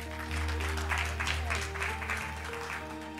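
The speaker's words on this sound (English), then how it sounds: "Come on, give the Lord a hand clap." A church congregation claps for the Lord during a testimony service, fairly quiet, steady applause over a sustained organ or keyboard drone, with a voice faintly present.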